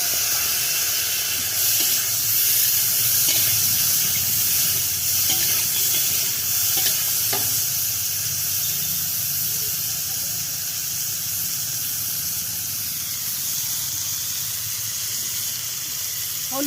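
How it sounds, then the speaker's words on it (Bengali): Chopped tomato tipped into a pan of frying onion and potato, setting off a steady, close hiss and sizzle that runs unbroken, with a few faint clinks of a utensil and a voice speaking over it. "এবার আমি টমেটোটা দিয়ে দেবো।"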